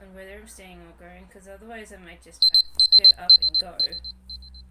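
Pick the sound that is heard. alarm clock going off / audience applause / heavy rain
alarm clock going off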